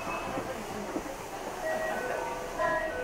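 Steady rumble of a moving train carriage heard from inside, with faint squeals and rattles over the constant hum.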